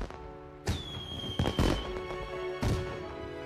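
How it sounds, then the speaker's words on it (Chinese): Fireworks burst in the night sky with several sharp booming explosions and crackling tails, ringing out loud and fairly close between the blasts. "真希望我阿爹阿娘也能看到这么漂亮的烟花"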